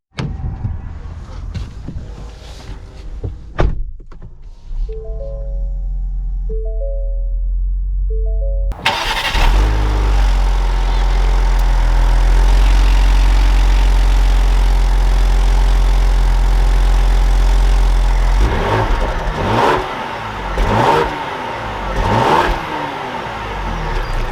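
A 2021 Ford Explorer ST engine cranks and starts after some clicks and beeps, then idles loudly and steadily before revving briefly near the end, close and clear with no talk.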